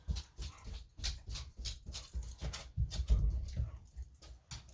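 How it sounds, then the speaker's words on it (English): A dog scratches at a door indoors, giving repeated rhythmic scraping and thumping strokes that are close and fairly loud, with faint whimpering mixed in. "excuse my dog scratching at the door"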